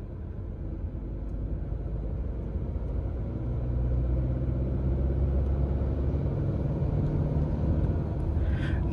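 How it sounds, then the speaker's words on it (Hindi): A 2023 Tata Nexon diesel with an automated manual transmission, heard from inside while driving, a steady low engine and road rumble that rises slightly partway through as it shifts gears. "गियर शिफ्ट होते हैं तो उसका पता चलता है, देखो"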